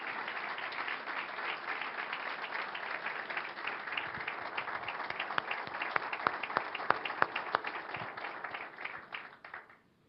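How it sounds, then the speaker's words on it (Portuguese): A church congregation applauds steadily for about nine seconds, a dense wash of many hands with a few sharper individual claps standing out near the end before it fades out. "E eu quero que vocês celebrem com palmas a vida desses dois"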